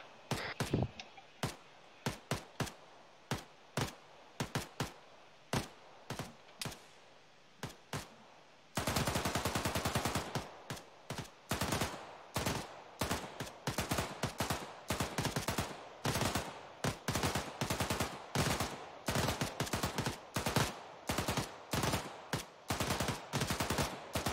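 Machine gun bursts from a PKP in Arma 3, short rhythmic strings of loud shots with gaps between, then a dense sustained stretch of rapid fire midway before returning to separated bursts.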